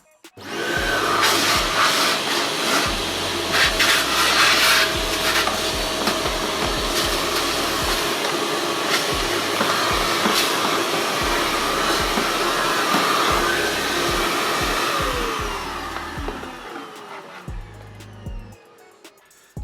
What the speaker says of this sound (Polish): Za pomocą funkcji ssania odsysamy resztę wody z chemią z pojemnika.